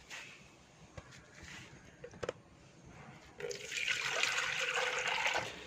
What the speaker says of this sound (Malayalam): ഫിഷ് ടാങ്കിൽ നിന്ന് ഇച്ചിരി വെള്ളം എടുത്തിട്ടുണ്ട് അപ്പോൾ നമുക്ക് ഇതിനകത്തോട്ട് അങ്ങ് ഒഴിച്ചു കൊടുക്കാം